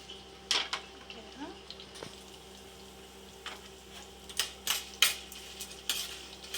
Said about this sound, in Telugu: శనగపప్పు, మినపప్పు ఇవన్నీ వేసుకోవాలి. ఇలా వేగించాలి.